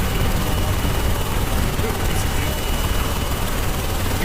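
Helicopter in the Carrier Command 2 video game descending on a carrier elevator, a steady loud rotor and engine drone that holds unchanged throughout, with players talking over it.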